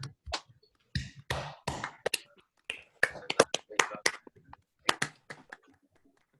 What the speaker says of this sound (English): by way of offering our thanks to Father Dragos that we simply clap